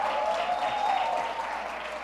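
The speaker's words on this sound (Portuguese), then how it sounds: "Essas palmas estão fracas," Church congregation applauding a married couple celebrating 18 years at a Sunday celebration service, a steady, moderately distant wash of clapping that holds evenly for about two seconds with no talk over it.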